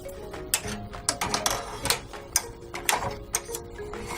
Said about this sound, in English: you slip it right under the clips and click it in place